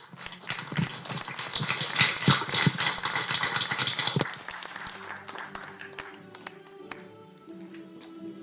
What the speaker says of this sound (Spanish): Brindemos un cariñoso aplauso a los destacados.